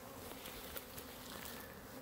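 A dense, steady hum of many honeybees buzzing around beehives in a yard, constant and moderately loud, with occasional individual bees passing close.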